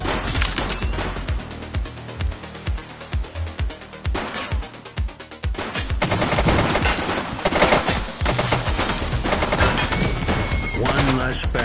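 Rapid bursts of gunfire in The Precinct police game on PlayStation 5 Pro, sharp repeated shots in clusters and volleys, loud and close, continuing over dense game sound and music.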